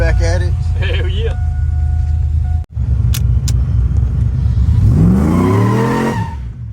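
A sleeper Silverado truck on Hoosier slick tires revs loudly, its engine roaring and rising in pitch as the tires spin, with people talking nearby and a brief cut midway.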